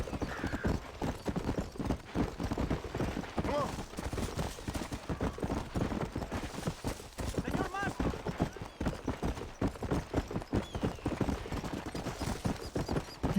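A horse in the Red Dead Redemption game clip-clops along at a steady gait, its rhythmic hoofbeats running throughout, with a few brief whinnies and a player talking over the top.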